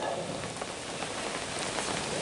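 Steady rain falls at an outdoor race in cold weather, a dense continuous hiss of drops striking the ground and surfaces, even and unbroken throughout.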